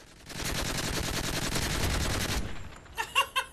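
A PKP Pecheneg machine gun fires in a video game. One loud, continuous automatic burst runs for about two seconds, then a few short, separate pops follow.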